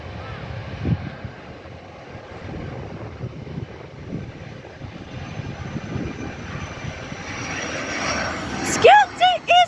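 An airliner comes in to land at an airport, its engines a broad roar that slowly builds, heard outdoors with wind buffeting and people talking nearby.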